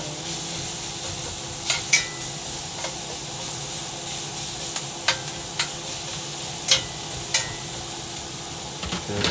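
Red onions sizzling in a hot pan, a steady crackling hiss with occasional sharp pops and utensil taps standing out, nearby and moderately loud with no talking.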